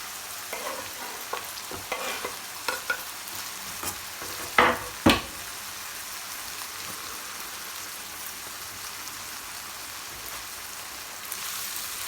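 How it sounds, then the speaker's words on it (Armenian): Vegetables frying in a pan with occasional stirring, a soft steady sizzle broken by a few sharp scrapes and knocks of the utensil near the middle. "Հիմա սա էլ մի թեթև կտապակվի և վրան կավելացնեմ տոմատի մածուկը։"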